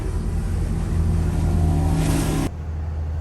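Diesel hum of the main six-cylinder engine aboard a Nordhavn 47 motor yacht under way, a steady droning rumble with low tonal harmonics that drops abruptly in level near the end.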